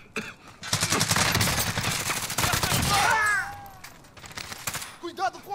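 Rapid automatic gunfire in Call of Duty: Modern Warfare, a dense sustained burst lasting a few seconds with a shouting voice over it, then quieter scattered sounds.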